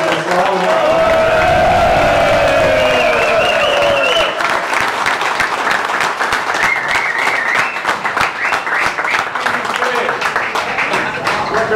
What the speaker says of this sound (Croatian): Molim vas velika aplauz za slavu.